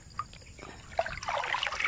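Fertilizer being stirred into icy-cold water gives a faint, continuous trickling and sloshing that grows a little busier toward the end, with no voices.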